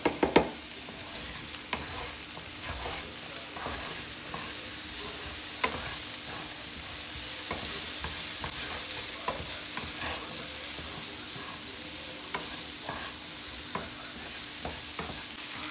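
Onions and potatoes fry in a pan with a steady, dense sizzle, close and even throughout, with occasional clicks of stirring and no talk.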